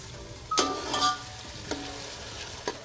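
Onions for pav bhaji fry and get stirred in a pan, a soft sizzle running under a few sharp scrapes and clinks of the spoon against the metal, heard close with no talking.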